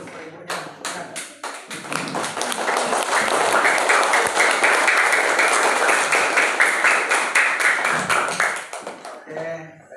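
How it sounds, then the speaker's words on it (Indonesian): Schoolchildren in a fifth-grade classroom clap for their teacher, a dense round of applause with rhythmic patterned claps that swells and fills most of the stretch, then trails off as a voice speaks near the end. "Kasih tepuk ibunya"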